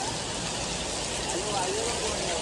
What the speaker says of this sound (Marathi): आता जाम पाऊस येतो